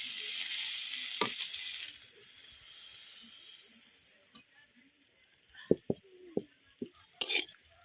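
Eggplant pieces fry in oil with a loud, hissing sizzle that fades after a couple of seconds, then gives way to sparse clinks and scrapes as the pieces are lifted out of the pan.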